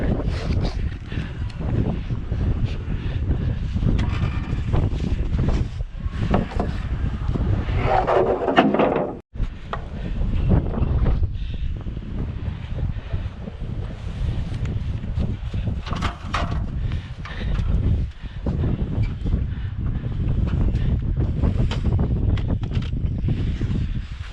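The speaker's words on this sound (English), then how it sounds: "breezy day out here, so it'll be fun" Strong wind blusters outdoors on a breezy day at a barn build site, roaring steadily and loudly against the microphone with gusty surges throughout.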